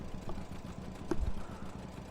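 Low, throaty idle of a John Deere Model A tractor engine in a farming game mod, a steady mid-low putter with a brief louder thump in the middle, heard alone without talk.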